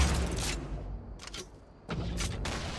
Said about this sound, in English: Grenade launcher doesn't go far.